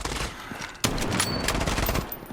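Rapid bursts of gunfire in a first-person shooter video game, loud and dense, with a sharp onset partway through followed by sustained overlapping shots and clattering reports.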